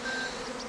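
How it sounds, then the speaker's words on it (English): A swarm of honey bees being gathered into a cottage hive gives a brief, steady, high insect buzz, even and unbroken, with no voices over it. "And we're going to capture these bees and we're going to put them in our cottage hive."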